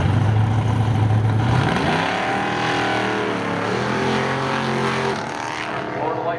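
Race car spinning its tires at the start of a drag race at Seekonk Speedway, a loud steady engine roar with screeching tire noise that shifts pitch as the car launches and pulls away.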